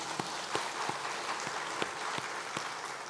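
A church congregation applauds during a Sunday worship service in a steady sustained round of many hands clapping. Scattered louder claps stand out, and there is no talk.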